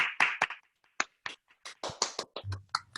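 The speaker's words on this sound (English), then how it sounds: "let's give ourselves a quick round of applause." Participants in an online printmaking class clap over unmuted microphones: a faint, sparse scatter of individual claps and taps, uneven and unsynchronized, for about three seconds.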